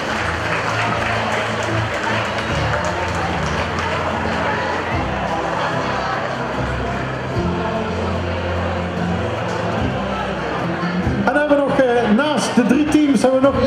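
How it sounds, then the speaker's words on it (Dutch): A crowd at a volunteers' celebration in Stein applauds a women's handball team, continuous clapping mixed with lively crowd chatter and music, growing louder and busier toward the end. "een geweldig applaus."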